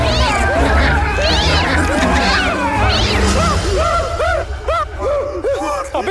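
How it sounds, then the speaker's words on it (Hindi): A cat meows several times in quick rising-falling cries in a dark room in a film scene, close and clear, following a loud crash with voices underneath. "अबे बिल्ली है"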